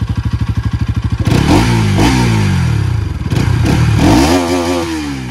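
Bajaj Pulsar RS200 motorcycle with an Akrapovic exhaust sweeps past close by, a loud staccato idle-like burble giving way to a rising rev, a falling Doppler drop, then another sharp surge of revving as it pulls away.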